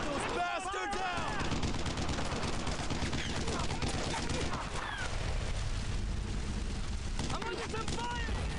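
Heavy gunfire in the video game Brothers in Arms: Earned in Blood, with bursts of rifle and machine-gun shots and booming blasts layered in a constant loud battle din, with voices speaking over it.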